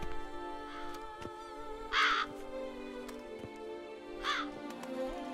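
Ravens caw in The Witcher 3: Wild Hunt, Blood and Wine, with two distinct hoarse calls of moderate loudness rising over a steady ambient game soundscape.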